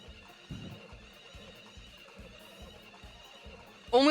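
Horses in a horse derby in the video game Story of Seasons: Friends of Mineral Town, with steady rhythmic galloping hoofbeats under game music and a brief louder whinny-like burst at the very end.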